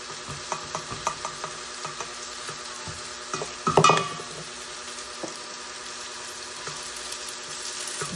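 Banana heart stirred into simmering Filipino kare-kare in a pot, with soft rhythmic spoon taps and scrapes, a louder clanking burst midway, and a steady bubbling sizzle underneath throughout.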